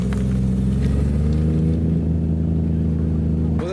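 A car engine idling with a steady low rumble at a car meet as cars warm up before a convoy, close and loud, ending in a brief rev.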